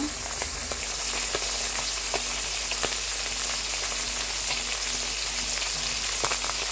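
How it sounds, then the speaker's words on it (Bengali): Koi fish frying in hot oil, turned over to cook on both sides, give a steady dense sizzle with scattered crackling pops and a faint low hum beneath, continuous and close throughout. "এখন ভিউয়ার্স, মাছগুলো ভেজে নিচ্ছি। এভাবে সব মাছগুলো এপিট ওপিট করে ভেজে নেব।"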